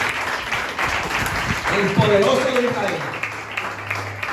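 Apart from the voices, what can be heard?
congregation applause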